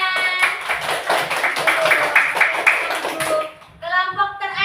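A classroom audience claps together, a loud burst of quick, dense hand claps mixed with voices, then a short lull before speaking resumes.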